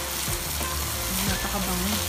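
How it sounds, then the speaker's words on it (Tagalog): Garlic butter sizzling in a frying pan as it is stirred, a continuous close crackle with brief utensil scrapes, no speech. "Haluin lang natin."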